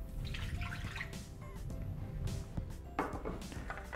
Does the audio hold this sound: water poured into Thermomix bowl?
yes